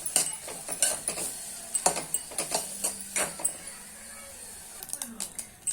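Rice dry-roasts in a pan, stirred so the grains scrape and clatter in a rhythmic series of sharp clicks and scuffs, fairly close, with a voice speaking over it.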